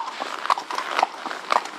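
A horse walks along a countryside ride on a hack, its hooves making close, clear, rhythmic clip-clop steps at an even walking pace.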